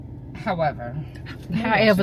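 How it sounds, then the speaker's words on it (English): Pet dog barking, whimpering and yipping close by in short uneven bursts, with a person talking over it. "That's my dog."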